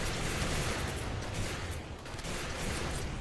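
Gunfire from turrets or shotguns in Rimworld, a dense, continuous barrage of overlapping shots and booms, loud and unbroken for the whole stretch.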